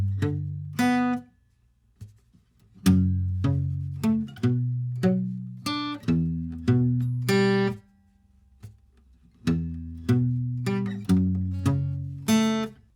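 An acoustic guitar is fingerpicked through the verse of a song, with clear, close plucked notes in a steady pattern and a couple of brief pauses, played alone.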